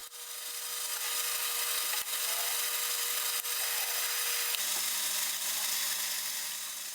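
A metal lathe faces off the end of a steel bar stock, producing a steady, moderately loud broadband hiss and scraping cut noise with a faint tonal hum and a few brief clicks, without any talking.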